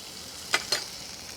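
Onions fry in a pan for an omelette curry, giving a faint background hiss broken by two quick, brighter bursts of sizzling.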